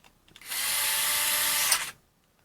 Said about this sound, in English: all I do is turn the tool on and grab this socket, and the stall torque of the tool is what we record